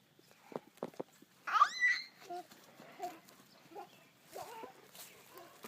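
A cat on a farm gives a couple of short meows, close and moderately loud, amid light rustling and scattered handling sounds; no talking is heard.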